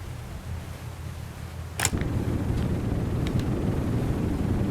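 Aircraft engines start up on a carrier deck in a video game: a brief sharp crack, then a steady low rumbling roar that swells and holds, with no voices.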